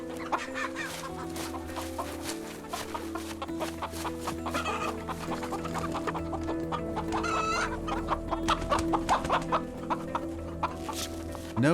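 Domestic chickens on a Romanian farm cluck steadily in a busy flock, with repeated close calls and a brief crow-like cry, continuing throughout over a low background hum.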